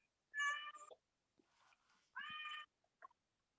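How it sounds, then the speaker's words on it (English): A cat meows twice, two clear tonal calls with faint rustling and small clicks between them, fairly quiet against a silent room. "There's a cat."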